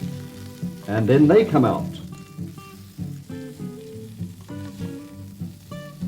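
Flour-dusted prawns frying in oil give a bright, crackling sizzle that swells loud early and then settles into a lower bubbling hiss, with a voice speaking over it.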